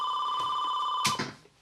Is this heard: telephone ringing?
yes